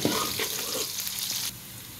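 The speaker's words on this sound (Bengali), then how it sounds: "পেঁয়াজটা এখন ভালো করে একটু ভেজে নেব।" Chopped onion fries in a pan with a steady, close hiss of sizzling that cuts off abruptly partway through, leaving a faint low background.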